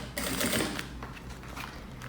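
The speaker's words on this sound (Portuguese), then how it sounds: "Vou costurar ele aqui." Sewing machine stitching a seam along the top of a fabric roll-style pencil case, a soft quick whirring burst followed by lighter intermittent mechanical ticks, fairly quiet and close.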